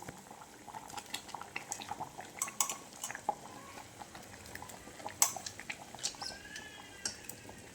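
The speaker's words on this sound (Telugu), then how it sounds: "ఆ కాకరకాయల ముక్కలన్నీ దీంట్లోకి వేస్తూ ఉంది." Boiled, squeezed bitter gourd pieces being tipped into a pan for a Rayalaseema-style curry give faint, sparse clinks and soft clatters over a quiet bubbling simmer.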